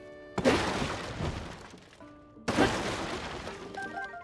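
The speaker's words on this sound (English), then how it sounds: "I'm just smashing all your crates." Wooden crates smashing in the video game The Legend of Zelda: Tears of the Kingdom: two loud, sharp splintering crashes about two seconds apart, each trailing off over soft in-game music.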